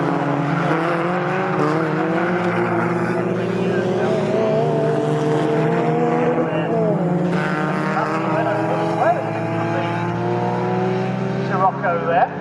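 Race cars on the Snetterton circuit in a Racing Club race, engines droning steadily throughout as the leaders come back through a corner, with a commentator talking over the continuous racing noise.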